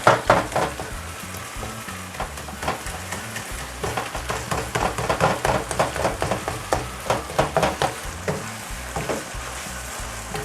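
Ground beef sizzles and fries in a pan while a utensil repeatedly stirs and scrapes it, giving a steady crackle broken by frequent clattering strokes, close and alone with no talk.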